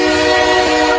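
A train horn blasts loud and close, a single sustained multi-tone whistle chord holding steady throughout before cutting off abruptly.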